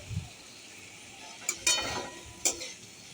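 Potatoes being added and stirred into soybean chunks frying with spices in a pan for an aloo-soybean curry: a soft, steady sizzle with a few scraping stirs and clatters standing out near the middle and end, close and fairly quiet.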